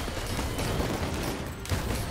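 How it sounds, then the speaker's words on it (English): Firework missiles in the video game Risk of Rain 2 launch in a dense, crackling barrage of rapid pops and bursts, continuous and fairly loud, with a slight lull before a final cluster of blasts. "the firework missiles, they're going to be killing a lot"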